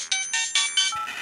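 A phone rings indoors with a bright electronic ringtone in four rapid repeated bursts, loud and close, with no one talking over it.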